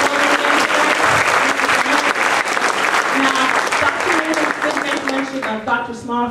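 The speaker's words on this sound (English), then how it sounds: "Let's give us another round of applause" Audience at a Beijing versus Rollins College debate event bursts into sustained, dense applause, loud and even for several seconds before thinning out at the end.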